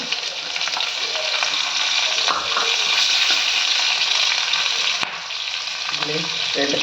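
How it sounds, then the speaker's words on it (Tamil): Small onions and garlic sauté in a hot pan with curry leaves and coriander for a veldt grape chutney, a loud continuous close sizzle with brief stirring scrapes and no talking. "சின்ன வெங்காயம் போட்டுக்கோங்க பூண்டு போட்டுக்கோங்க நல்லா வதக்குங்க"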